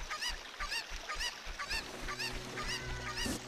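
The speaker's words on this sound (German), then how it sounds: "diesmal den Vogel nicht verärgern" Repeated goose-like honking squawks from a bird in The Legend of Zelda: Ocarina of Time, about a dozen loud calls in a steady rhythm over a low game background hum.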